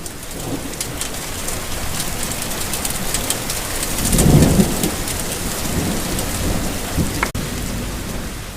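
Heavy rain pours steadily in a dense, hissing wash, with a low rumble of thunder swelling briefly partway through.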